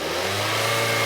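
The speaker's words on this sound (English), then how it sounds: "Rev it again." A Hyundai Tucson engine with a failing sensor, stuck near low RPM, held in a steady, loud mid-pitched rev with a constant drone and no voices.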